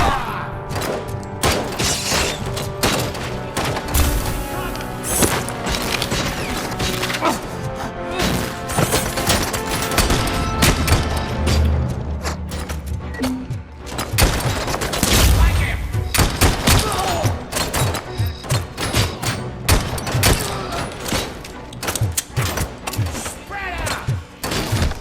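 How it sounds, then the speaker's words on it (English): Pistol shots fire repeatedly in RoboCop: Rogue City, a dense run of sharp game-combat bangs and impacts layered over a busy soundtrack, with a voice talking through parts of it. "Not bad for a pistol."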